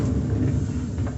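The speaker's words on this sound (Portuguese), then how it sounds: "Esse é o barulho do rolamento que estragou" Close, continuous low rumble and grinding from a worn, damaged bearing in a Consul washing machine drum, steady and without talk.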